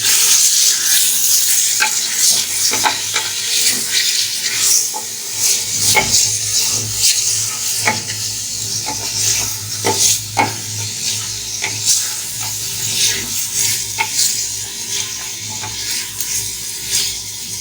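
Mutton with ginger garlic paste is stirred in a hot pan, a steady sizzle broken by repeated scraping strokes of a spoon against the pot.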